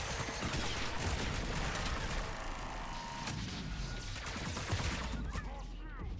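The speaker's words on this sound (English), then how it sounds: "Who's shooting me? That would be the giant Geth." Heavy gunfire from a giant Geth enemy in Mass Effect 3 multiplayer, a dense, continuous barrage of loud shots and impacts with game effects, with some talk mixed in.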